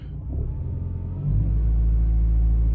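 2016 Mitsubishi Lancer engine revving loudly while the car sits stationary with a suspected failed transmission, a steady low rumble that swells and holds heavier after about a second, with no talk.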